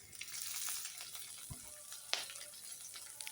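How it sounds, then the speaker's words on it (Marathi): Chopped green chillies drop into a pan with roasted urad dal and sizzle softly in hot oil, with a faint steady frying hiss and a few light clinks from the utensil. "उडीद डाळ छान भाजल्यानंतर त्यामध्ये कट केलेली हिरवी मिरची टाकून घेतली"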